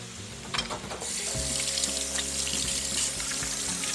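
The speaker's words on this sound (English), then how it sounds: "I'm going to wash my gooey hands" A kitchen sink tap runs as hands are washed under the stream, a steady close hiss of water with splashing after a brief start.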